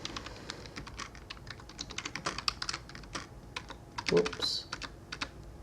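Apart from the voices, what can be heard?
typing on a keyboard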